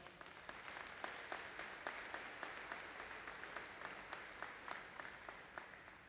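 Sustained applause fills the hall at a 2021 Grand Valley State University convocation, honoring student representatives; many hands clap steadily and evenly at a moderate distance, with no talking over it.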